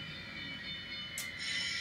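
Close by, a model railroad train rolls into place on a layout with a soft, steady rumble, and a brief high squeal rises near the end. No one speaks.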